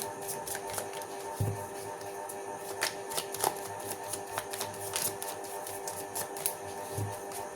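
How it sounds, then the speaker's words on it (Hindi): A deck of cards is shuffled close by in a rapid series of crisp riffles and flicks, soft to moderate in level, with no talk over it. "my last shuffle"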